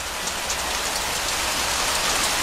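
Steady, dense rain falls evenly and loudly throughout, a constant hiss of drops with no voices.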